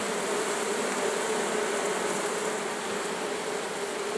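A swarm of honey bees drones continuously around a clay log hive, a dense, steady buzzing that fills the whole moment at even loudness.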